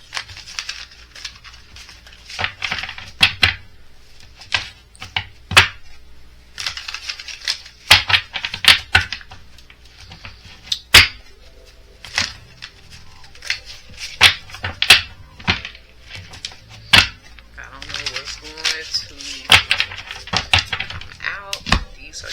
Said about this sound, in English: let me give them a quick shuffle since they've been in this box